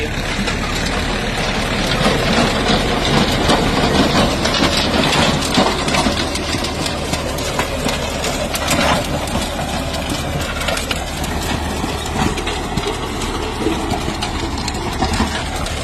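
A Mahindra Yuvo tractor runs in a medium gear with the engine held at about 1400 rpm. It gives a steady, loud, dense diesel rumble with a rattling mechanical texture. The sound stays constant and close throughout, with no speech.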